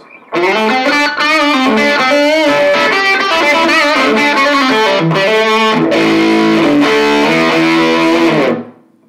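A heavily distorted electric guitar through a Plextortion fuzz distortion pedal plays a sustained run of notes and chords, loud and up close, ringing out alone before cutting off.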